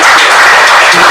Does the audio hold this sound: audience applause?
yes